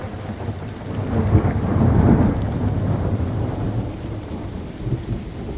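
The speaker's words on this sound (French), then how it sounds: "il pleut de ouf. C'est un orage carrément. Il pleut énormément." Heavy rain in a thunderstorm, a dense, close downpour with a deep rolling rumble of thunder that swells in the middle and then settles back into steady rain.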